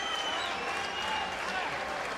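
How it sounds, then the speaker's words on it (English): A crowd at a 2011 Golden Gloves amateur boxing bout applauds the fighters with steady, dense clapping that fills the room, while a commentator's voice sits faintly beneath it. "Nice hand from the crowd."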